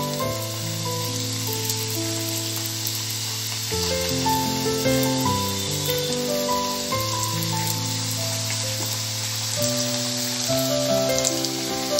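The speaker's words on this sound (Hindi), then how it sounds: "हमारा ऑयल गर्म हो गया है, अपनी रोल्स डीप फ्राई करेंगे" Veg spring rolls deep frying in hot oil, giving a steady, loud, continuous sizzle and crackle throughout, with soft background music running underneath.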